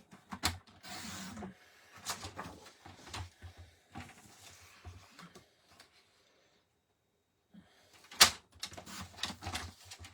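Paper being cut for a handmade card with a sliding paper trimmer, several short scraping and clicking strokes separated by pauses, close and fairly quiet.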